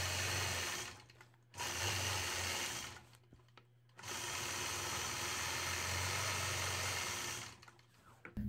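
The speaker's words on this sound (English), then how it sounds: "stitching in the ditch all the way around the outside of my triangle" A sewing machine stitches in the ditch around a triangle quilt block during free-motion machine quilting with a ruler, running in loud whirring bursts that stop and restart several times, close up with no talking.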